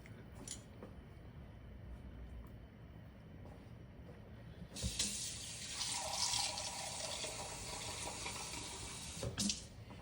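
Water poured from a faucet or container over corned beef in a pot for Southern corned beef and cabbage, a steady close rush of running water starting midway and continuing several seconds after a quiet kitchen lead-in.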